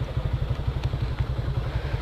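Motorcycle engine idling nearby with a steady, rapid low putter and rhythmic pulsing throb, moderately loud and alone.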